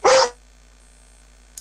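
A dog gives one loud, close bark, followed after a quiet pause by a short, softer yap, in a quiet room with no talking.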